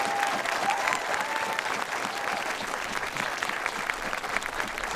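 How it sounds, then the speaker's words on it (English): An audience at a school concert applauds the student performers, a dense, sustained clapping that stays even throughout with a faint crowd murmur beneath. "Can we give them a round of applause?"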